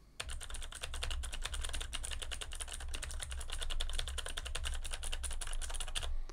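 Steady, rapid typing on a computer keyboard, dense clicky keystrokes continuing without pause, close and fairly loud.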